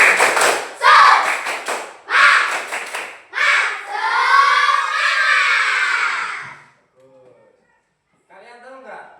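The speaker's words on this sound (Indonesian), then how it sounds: "Coba kita tepuk semangat dulu." Classroom of schoolchildren performing a rhythmic Indonesian spirit clap, several bursts of group clapping with chanted voices between them, then a short pause and faint talking at the end.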